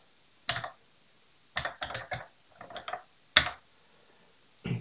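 Keystrokes on an Oric Atmos home computer keyboard as a load command is entered, coming in short irregular bursts of crisp clicks with brief pauses between them, close and fairly quiet.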